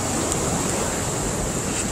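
Small waterfall beside a canoe route portage, a steady broadband rush of falling water that runs unbroken and fairly loud with no voices over it.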